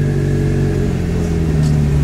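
A new car's engine fires up and revs on a beach, a steady loud mid-pitched running tone with harmonic hum throughout, swelling slightly toward the end.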